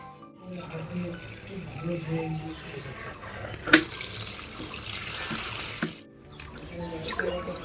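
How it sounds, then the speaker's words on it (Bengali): Water poured onto potted mint plants, a steady splashing stream running for several seconds with a brief louder spatter, heard close up with faint background noise. "পুদিনা গাছগুলো একটু জল দিয়ে দিই"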